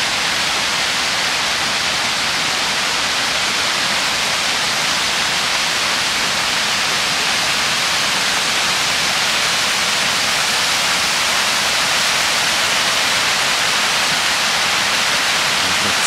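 Jets of the Peterhof fountains, including the Samson fountain, pour and splash in a loud, unbroken rushing roar of water that stays constant throughout.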